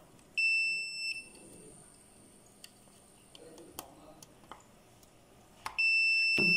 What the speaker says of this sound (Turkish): Ölçü aletimizi buzzer konumuna aldık.